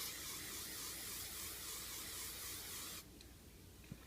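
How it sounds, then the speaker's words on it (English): A steady hiss of hairspray sprayed onto hair, held for about three seconds, then cutting off, leaving a quiet room with a faint tap. "and then I'm going to spray this while it's kind of big like that."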